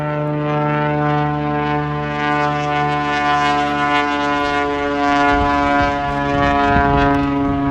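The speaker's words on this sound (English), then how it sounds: "It's one of the aircrafts coming off of Ogle Air, just taking off from Ogle Airport." A fixed-wing plane takes off from Ogle Airport beside the airport road, giving a loud, steady droning engine tone that holds without a break and roughens slightly toward the end.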